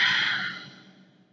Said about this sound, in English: And it's deep breathing, and you'll feel it on the upper lip.